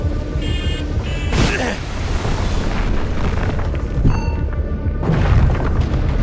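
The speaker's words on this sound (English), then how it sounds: "I shot a flare and it didn't care about the flare." Flare shot in a dark underwater horror video game, a sharp loud boom bursting out near the start, with a second burst later over a constant rumbling game background; a voice is faintly present.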